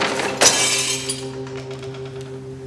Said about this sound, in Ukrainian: Та то Демченко кружку свою розбив.